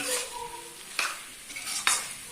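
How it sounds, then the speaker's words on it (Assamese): Paneer fries with masala in a pan, a soft sizzle broken by a few sharp spatula scrapes and stirs close by. "পনীৰটো ভালকৈ অকণমান দেৰি 1 মিনিটমান সময় পনীৰে মছলাৰে আমি ভালকৈ ফ্ৰাই কৰি লওঁ"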